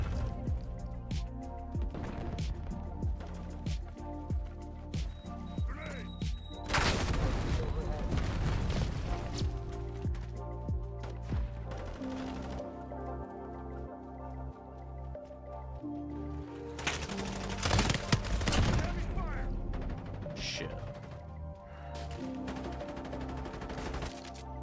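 SMG gunfire in the Modern Warfare 4 closed beta, bursts of rapid shots and crashing impacts scattered through a busy game soundtrack, with intermittent talking over it.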